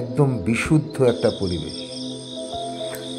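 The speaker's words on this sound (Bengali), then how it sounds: "আর এখনো সেই রাতের ঝিঝি পোকার ডাক" Crickets chirp in a steady high drone outdoors at dawn in the cloudy Nilgiri hills of Bandarban, starting under someone speaking and then carrying on alone at an even level.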